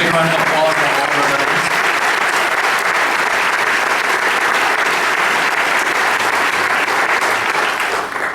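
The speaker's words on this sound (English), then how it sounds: "Big round of applause for all of our" A concert audience at a jazz band show applauds veterans, with loud, sustained clapping from a full crowd that fills the hall and holds steady throughout.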